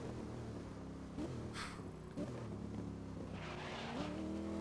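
Race car engine from the GRID video game, a steady droning motor with shifting harmonics and brief gear-change dips, plus a short burst of tire hiss near the middle.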